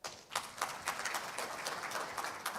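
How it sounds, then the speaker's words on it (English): Audience applause for a speaker at a spectrum management forum, even steady clapping from a crowd heard at a moderate distance, with no talking. "please give her with a big round of applause"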